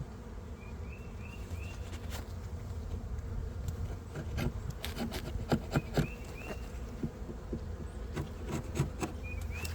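Propolis being scraped off wooden beehive frame bars, faint scraping and rubbing strokes close by against a constant hum of buzzing bees, with no voices.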